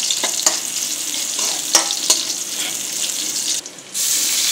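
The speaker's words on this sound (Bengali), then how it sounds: "2 চামচ তেলের মধ্যে হাফ কাপ পেঁয়াজ দিয়ে দিব। পেঁয়াজগুলো ভাজা হওয়া পর্যন্ত অপেক্ষা করব।" Half a cup of onions sizzles in two spoons of hot oil, a steady moderate frying hiss with a few sharp pops and clicks, and no talking.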